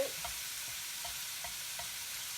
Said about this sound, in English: That's really sizzling away now.